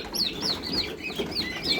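Twenty-day-old Bronze 708 turkey chicks on a poultry farm give repeated high, thin peeping calls in quick succession, fairly faint over a low background murmur.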